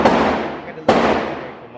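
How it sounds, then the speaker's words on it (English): Two loud, sharp gunshots at an indoor shooting range, the first at the start and the second about a second later, each followed by a long echoing decay. "This is our first time shooting, so get her acquainted to it"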